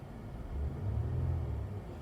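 A Kia Stinger GT in Hichroma Red gives a low, steady engine rumble that swells slightly as the throttle is lightly touched, a soft near rev lasting about a second before easing back, with no talking.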